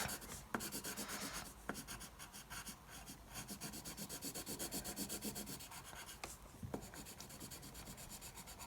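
A grey colouring pencil shades on paper in a long run of quick, steady scratchy strokes, close and fairly quiet, with no voices.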